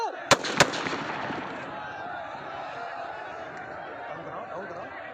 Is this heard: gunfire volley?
yes